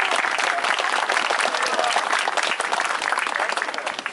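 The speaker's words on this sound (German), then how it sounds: "Applaus für die Promio." Crowd applause at a Tesla light show contest event in Hilden, lively continuous clapping from many hands, close and fairly loud, lasting throughout with slight dips near the end.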